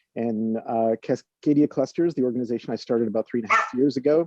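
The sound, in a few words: dog barking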